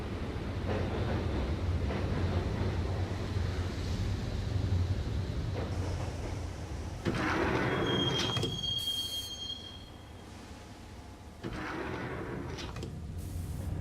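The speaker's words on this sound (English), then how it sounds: "the train doors had already shut behind me, and I was in for the ride" Subway train rolling along in the Max Payne video game, a steady loud rumble of wheels on rail with a brief high squeal midway and shifts in the clatter, no voices.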